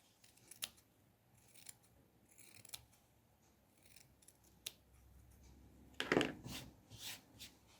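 Scissors trim the fabric seam allowance of a small dollhouse sofa cushion in a series of quiet, close snips at irregular intervals, with a louder cluster of cuts near the end.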